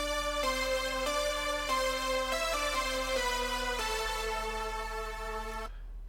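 Synth lead line recreated in a music project, built from several layered synths: a bright, harmonically rich melody of sustained notes stepping between pitches, playing alone for about six seconds before cutting off cleanly.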